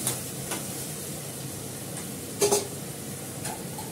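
Splash of water hitting a hot frying pan, a continuous even sizzle with a few soft clinks and a small bubbling burst midway, close and moderate, no talk.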